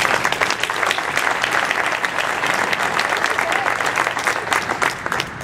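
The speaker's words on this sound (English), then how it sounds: "Let's give Cindy a round of applause." An audience gives a round of applause at a farewell gathering, dense continuous clapping with a crowd murmur mixed in, loud and sustained from start to end.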